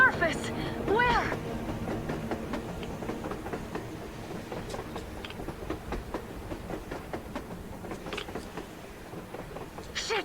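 A train rolls past on the surface in the video game Metro Exodus, a steady rumbling clatter with rhythmic clicks that fades over about ten seconds beneath loud voices.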